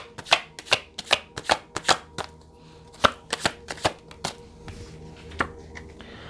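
Tarot cards shuffled and pulled by hand, a series of sharp riffling snaps in quick bursts, loud and close, fading into softer rustles near the end.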